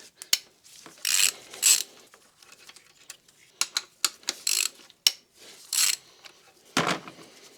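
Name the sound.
ratchet with Volkswagen 12-point sockets on Audi S5 engine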